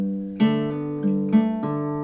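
Acoustic guitar fingerpicking in G with a hammer-on, a pattern of about five clearly plucked notes ringing into one another at a steady, moderate pace, close and alone.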